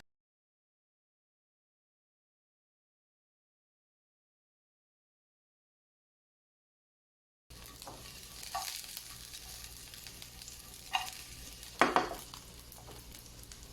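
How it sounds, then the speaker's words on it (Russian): Steady sizzling of garlic frying in a pan starts after a long silence, with a few clinks of a utensil stirring against metal. "разогреваем сковороду и обжариваем на нем чеснок"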